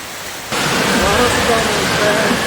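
Heavy rain whipped by strong wind surges in after a brief quieter moment, then roars steadily as a loud, close, broadband rush, with a faint voice-like trace beneath.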